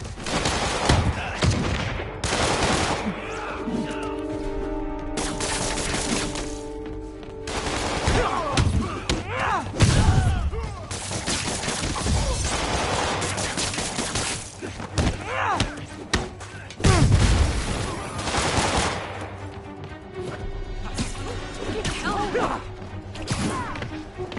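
Gunfire from armed enemies in a Spider-Man fight scene rings out in loud bursts and impacts, mixed with slams and crashes over a steady action score, with brief voices in places.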